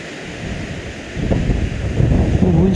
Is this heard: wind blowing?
yes